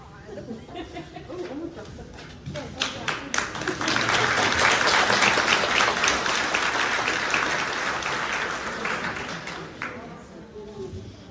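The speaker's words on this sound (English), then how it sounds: "Please give them another round of applause." Applause for nominees and winners at a chamber of commerce awards banquet, building from scattered claps into a full, loud round that holds for several seconds, with some chatter and talk underneath.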